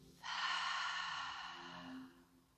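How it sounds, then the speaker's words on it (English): A single deep, breathy exhale pushed out through the mouth during a beginner yoga session of leg and lower-body stretches, close and steady for about two seconds before tapering off. "a full exhale out of your mouth"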